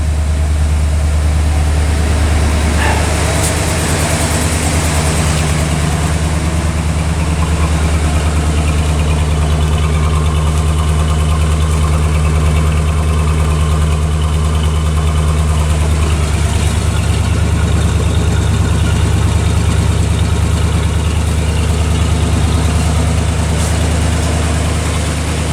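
A 1965 Chrysler 300L engine idles cold after years of sitting unused, a steady, loud, low rumble held close without letting up.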